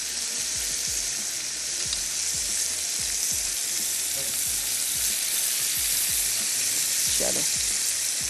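Chicken pieces sizzling steadily and loudly on a hot grill pan, a dense continuous hiss with occasional soft knocks as pieces are set down.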